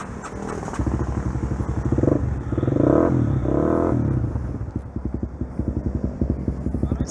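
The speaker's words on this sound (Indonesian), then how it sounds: "Coba kita nyalain dulu suara mesinnya." A Honda CB150R motorcycle engine, modified in road race style, starts up and idles with a rapid, lumpy putter, revving briefly before settling back into a chugging idle nearby.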